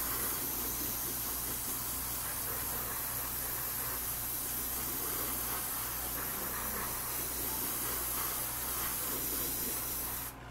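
A spray paint can hisses steadily while coating the underside of a hand-held junk-food logo model, one continuous close, bright spray lasting about ten seconds over a faint low background hum, with no talking.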